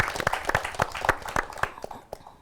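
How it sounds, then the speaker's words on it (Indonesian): A small studio audience claps briefly during an Indonesian film talk show, with sparse, distinct hand claps at an uneven rhythm, fairly close and moderately loud, fading out after a couple of seconds. "tepuk tangan dulu dong"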